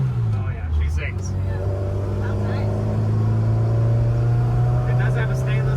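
A 1959 Austin-Healey Sprite with a stainless exhaust drones along at steady cruise, a loud, close, even engine hum holding one pitch throughout, with a voice breaking in briefly over it.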